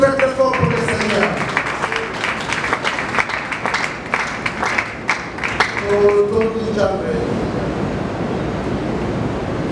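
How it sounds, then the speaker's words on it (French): A funeral congregation claps loudly and rapidly in sustained applause, dense and close, with voices calling out over it before the clapping fades toward the end. "Est-ce que nous pouvons applaudir très fort pour le Seigneur?"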